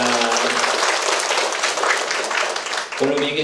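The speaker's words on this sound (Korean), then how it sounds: "하나님께도 우리 영광의 박수 올리도록 하겠습니다" A church congregation in Korea claps together after a choir's hymn, a loud sustained wash of applause that cuts off abruptly near the end, leaving a voice speaking with a faint hum.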